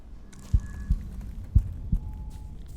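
Heartbeat effect from The Thaumaturge video game: four deep, thudding beats in a slow, steady pulse, close and prominent over a faint hum.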